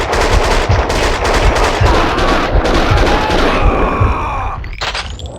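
Rapid bursts of automatic gunfire crackle loudly and almost continuously in the Max Payne 2 video game, with sharp repeated shots that thin out toward the end.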